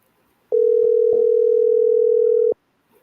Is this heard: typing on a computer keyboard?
no